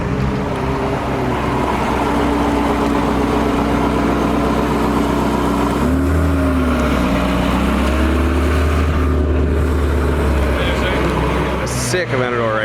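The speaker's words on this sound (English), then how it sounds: "Check it out, we got a 918 rolling through." Porsche 918 supercar rolling slowly through an outdoor exotic car show, a low steady engine hum with shifting tone amid crowd noise, ending in a brief sharp sound.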